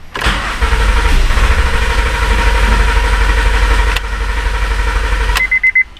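Engine cranks steadily for about five seconds with all fuel injectors disabled, a rapid even churn with no firing, near and loud, before cutting off with a few short bursts at the end.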